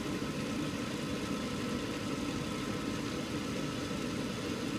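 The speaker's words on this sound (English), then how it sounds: "Now we're going to get gas, and it's going to be a nice blue flame all across the burners." A gas furnace fires up, the burners catching into a steady, even roar that stays constant and close throughout, with no speech.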